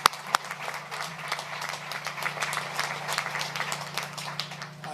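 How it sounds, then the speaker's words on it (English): An audience at a Honda electric-vehicle deal announcement in Alliston, Ontario gives a sustained round of applause. It opens with a few sharp close claps and then settles into steady clapping over a low background hum. "Let's give them another big round of applause."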